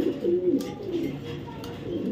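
A female BRPFC-club racer pigeon coos in low, continuous rolling murmurs, close and moderately loud, with no other sound over it.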